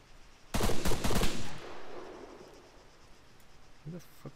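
A short, loud burst of rapid gunfire in Arma 3 cracks out close by, then fades into a faint insect-like buzz, with a brief later sound.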